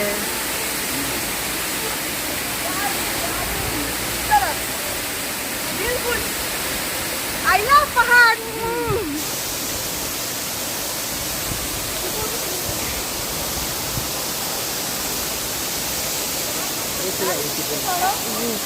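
Cold water pours from a waterfall on the road from Bhalukpong to Bomdila, a dense, steady roaring rush close by, with a brief burst of voices partway through.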